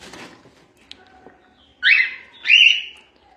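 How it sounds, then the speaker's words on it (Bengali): Pet cockatiels and lovebirds at a bird shop give two loud, close whistled calls near the end, after quieter faint chirps and rustling. "দারুণ সুন্দর সুন্দর সব পাখি, দেখে নাও।"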